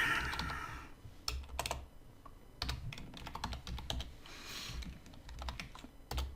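Fingers type on a computer keyboard, close and fairly quiet, in uneven bursts of quick key clicks with short pauses, while Java code is entered.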